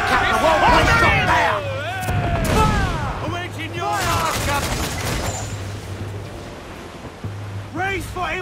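Ship cannons booming in a naval battle in Assassin's Creed IV: Black Flag, a dense run of heavy blasts over ocean waves, with shouting crew voices and score mixed in throughout.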